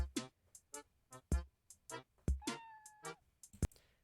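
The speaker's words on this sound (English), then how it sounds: "Also just love the cat sound effects." Cat meow sound effects from the Animal Crossing GameCube game, a quick series of about ten short, bright meows in an uneven rhythm, one drawn-out with a falling tone, heard clearly with no talking.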